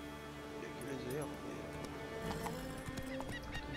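Horse hooves in The Witcher 3 on PC, a steady clip-clop of a trotting horse with a brief whinny, fairly quiet beneath someone talking over game sound.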